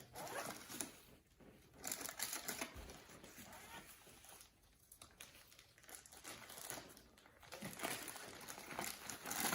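Plastic zip-top bag holding about six saltine crackers being zipped shut, a crinkly plastic rustle with zipper scraping bursts, fairly close and moderately loud, with no talk over it.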